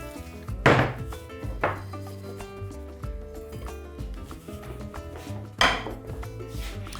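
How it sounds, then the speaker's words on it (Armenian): Roasted spices pounded in a mortar: a few separate heavy thuds spaced well apart, over steady background music. "Բովելուց հետո համեմունքը տրորելու ենք հավանգի մեջ"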